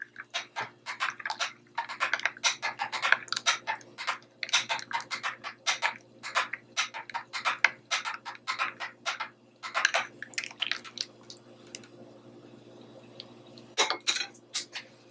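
A spoon clinks and scrapes rapidly inside a bowl while onion and garlic are mixed into rice water, giving a quick, steady run of close clatters that pauses briefly near the end.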